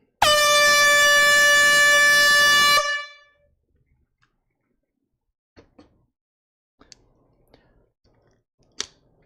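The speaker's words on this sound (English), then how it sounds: "We have an air horn tonight." A single long air horn blast at an auction, loud and steady for about two and a half seconds and then cut off, followed by scattered faint clicks and small knocks in an otherwise quiet room.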